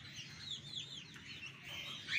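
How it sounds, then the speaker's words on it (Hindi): Chickens and roosters in a pen of Golden Misri birds, clucking and chirping faintly in a steady, slightly distant stream without talk. "इसमें कुछ मुर्गे भी हैं,"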